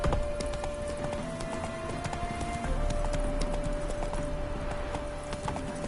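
Roach, a horse in the video game The Witcher 3, gallops with steady, rapid hoofbeats over a continuous game soundscape, with a sustained tonal hum running underneath throughout.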